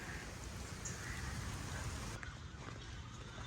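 Steady rain falls at a zoo in Visakhapatnam, a dense, even hiss of drops on surfaces that runs throughout and thins slightly toward the end.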